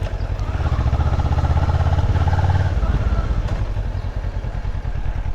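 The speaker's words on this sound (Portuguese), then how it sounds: "A moto tá um pouquinho estranha, eu acho" Motorcycle engine running steadily while riding, loud and close, with a rough low throb that shifts partway through as the bike seems to run a little oddly.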